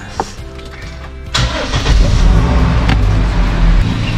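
A Toyota Hiace 200-series van engine is cranked and fires up after a catalytic converter install, a short starter whir followed by a loud, steady idle close by, checked for an exhaust leak.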